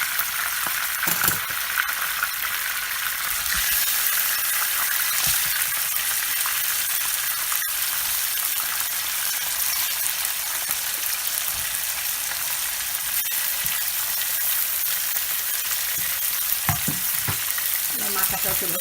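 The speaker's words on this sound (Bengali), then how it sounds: "আমি সবসময় টং ইউজ করি মাছ ভাজতে, তাতে ধরতে সুবিধা।" Pieces of rohu fish fry in hot oil in a pan, giving a steady bright sizzle throughout with occasional soft clinks and shifts as the pieces are turned with tongs.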